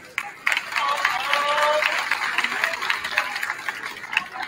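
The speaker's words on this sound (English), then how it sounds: "another round of applause for your 2024 MHS Wall of Fame inductee" Sustained, full applause from a gym crowd at a boys' varsity basketball game honours a school Wall of Fame inductee, with a brief whistle-like tone inside the steady clapping and a slight fade near the end.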